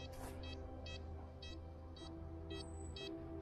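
A faint, regular series of short electronic metal detector beeps, about two per second, sits over a low background hum, signalling a target under stones.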